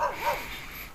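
A dog barks a couple of times at a distance at a white-sand beach, the yelps thin and high, set against steady outdoor background noise.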